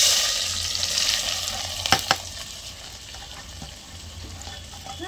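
Onions and green chilies sizzling in hot oil, a steady close frying hiss with a couple of sharp clinks from stirring.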